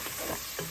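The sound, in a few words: curry leaves added to hot oil, sizzling while stirred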